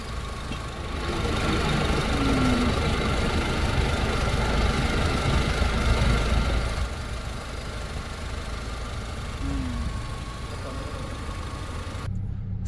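A 2006 Honda Civic with a 1800 cc engine idles steadily with a low, even hum and faint tapping, close and constant, while voices talk briefly over it before it cuts off at the end.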